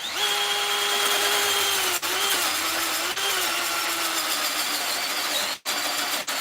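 A battery-powered drill bores into a wooden bear carving with a loud, continuous whine that wavers slightly in pitch under load, broken by a few brief stops near the end.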